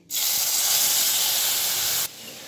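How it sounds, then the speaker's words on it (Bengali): A sudden loud hiss bursts out as boiled mung lentils and bottle gourd hit hot oil tempering, holding strong for about two seconds before cutting off abruptly. "এবার সেদ্ধ করা ডাল এবং লাউ একসঙ্গে দিয়ে দিচ্ছি।"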